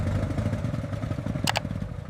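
A restored 1926 Star motor car engine runs steadily with a rough, even chugging beat and some mechanical clatter, close by, with a brief sharp metallic tick partway through.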